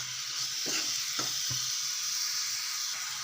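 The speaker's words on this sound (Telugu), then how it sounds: "కొంచెం నెయ్యి వేస్తున్నానండి మరి వేసుకొని మరి ఒకసారి కలుపుకుందాం" A carrot, fresh coconut and jaggery laddu mixture with ghee is stirred in a pan, giving a steady close sizzle with a few soft scraping strokes of the spoon.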